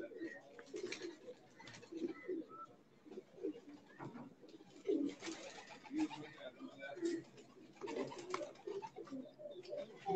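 A pigeon, a favourite champion racing bird, coos in repeated soft low phrases, close and fairly quiet, with other bird calls mixed in throughout.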